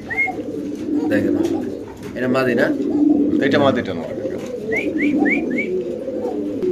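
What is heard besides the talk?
pigeons cooing in a pigeon market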